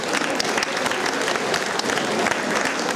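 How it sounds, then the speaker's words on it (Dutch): Dense, steady applause from an audience at a Dutch dog show honoring the Dog of the Year, sustained and loud for the whole stretch with a crowd murmur beneath the clapping. "geef u haar een warm applaus"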